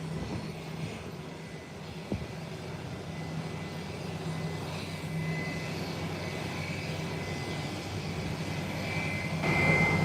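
A JetBlue airliner just in from Boston rolls along the taxiway, its engines a steady, distant low drone that swells slightly toward the end.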